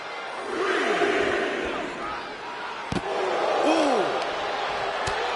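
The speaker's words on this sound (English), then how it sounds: "Listen to this crowd." A large crowd roars and cheers continuously in the wrestling video game WWE 2K25, with a sharp impact thud partway through and a commentator-like voice faintly underneath.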